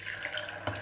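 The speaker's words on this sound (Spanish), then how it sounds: "Le vamos a agregar 1 litro de agua" Water pours steadily while homemade soy milk is being made, giving a brief, continuous splashing rush close by that ends with a slightly louder slosh, and no one speaks over it.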